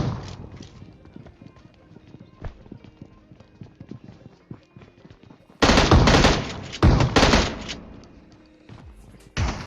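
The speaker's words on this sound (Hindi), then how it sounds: "पर अब मैं यहाँ पे इसका एक बंदा M16 से पेल देता हूँ" An M16 rifle fires in a mobile shooter game. Light ticking footsteps come first, then several loud, close bursts of rapid automatic gunfire break out in the second half.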